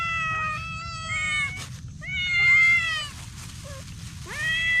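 A cat meows loudly and repeatedly, several drawn-out, wavering cries close by, with a low steady hum underneath.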